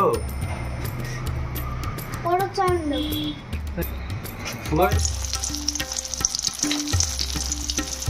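Hilsa fish fry in a pan with a steady crackling sizzle and occasional stirring clatter, and someone speaks over it with a brief child-like voice partway through.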